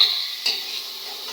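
Food stirred in a frying pan, a brief hiss of sizzling with a single scrape of the spatula partway through.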